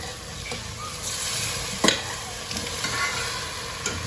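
Chicken curry in the making, with pieces sizzling and frying in a pan under steady stirring. A continuous close crackle carries a few sharper scrapes and clinks of the spoon against the pan.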